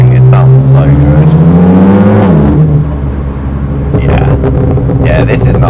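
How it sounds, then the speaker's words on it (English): A BMW M2 Competition fitted with an aftermarket exhaust pulls hard while driving, its loud engine note rising in pitch through the gear, then settling, with people talking over the cabin drone. "That's amazing. It sounds so good."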